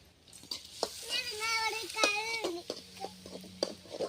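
Chopped big onions sauté in a pan while being stirred and tossed, a soft crackling sizzle under a child's chatter and other voices nearby.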